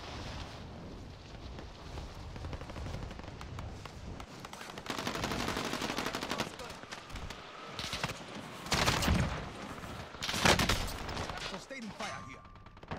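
Rapid automatic gunfire in Call of Duty Warzone comes in repeated loud bursts separated by quieter stretches, mixed with game ambience.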